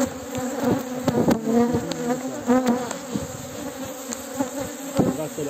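Aggressive honey bees swarm at an open hive, a dense, loud, continuous buzz close by with individual insects droning past, and no voices.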